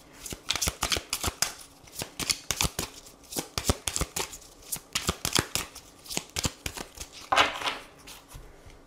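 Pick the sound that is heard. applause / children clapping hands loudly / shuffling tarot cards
shuffling tarot cards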